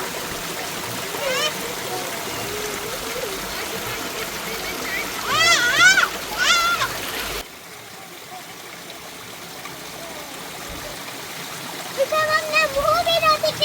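Fresh mountain water runs and splashes steadily beside a roadside on the way to Rawalakot, a continuous rushing under loud nearby voices, including a child's, that come and go.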